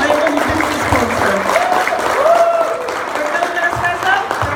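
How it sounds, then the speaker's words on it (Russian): An audience applauds loudly and continuously at a business event in a hotel, the dense clapping running throughout with voices mixed in. "Еще раз, бурный аплодисмент моему любимому спонсору."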